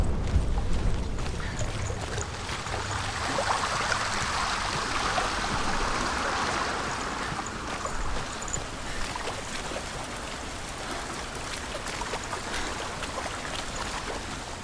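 A rushing waterfall in the video game Hellblade produces a continuous, fairly loud splashing wash of water, strongest at the start, with no voices.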